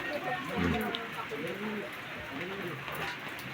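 Taiwan pigeons cooing in soft, repeated low calls, several birds close by, with people talking over them and light background noise.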